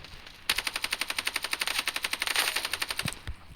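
A machine gun rattles off a long, rapid, even burst of shots in the shooter game Standoff 2. The fire is loud and close, lasts about two and a half seconds, and plays alone with no voice.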